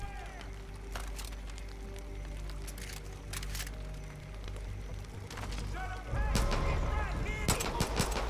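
Gunfire in the video game Far Cry 5: repeated shots and bursts crackle through a busy game soundscape, growing louder and denser toward the end, with a voice speaking over the action.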